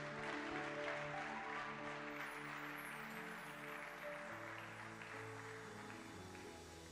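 A church congregation applauds to acclaim Jesus Christ during a French-language service, producing steady, soft clapping throughout against a sustained musical backdrop.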